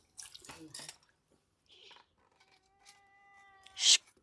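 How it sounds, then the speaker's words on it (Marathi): A house cat meowing faintly a few times in a quiet home kitchen, with soft speech and small clinks around it. "मांजर आली."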